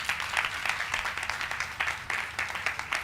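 A crowd at a temple cultural program during an Ati Rudra Maha Yajna claps steadily, moderately loud and a little uneven, with no other sound over it.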